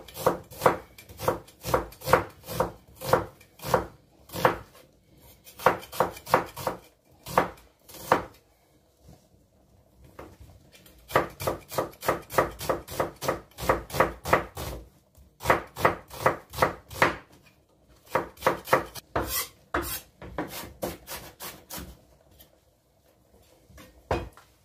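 Knife chopping onion on a board for a potato lasagna sauce, a long run of quick, crisp, evenly paced strokes in bursts with brief pauses, close and loud with no talking.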